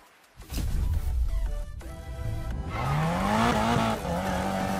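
A tuned car drifts in Need for Speed Payback, with engine roar building and a long tire squeal sliding upward in pitch, loud and sustained without talk.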